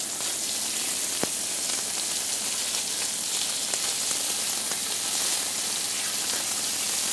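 Bacon-wrapped venison medallions fry in a hot pan with rosemary-scented oil, giving a steady, close crackling sizzle that runs unbroken throughout with a few sharper pops.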